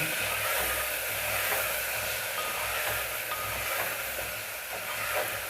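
Taro pieces with turmeric and salt fry in a pan over medium heat, giving a continuous, even hiss and sizzle that stays at a constant level with no voices over it.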